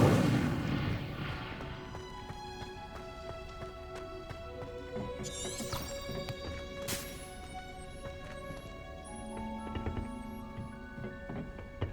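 Incendio fire spell cast in the video game Hogwarts Legacy, a sharp burst at the start fading into a sustained magical whoosh layered with tonal game music and chiming effects.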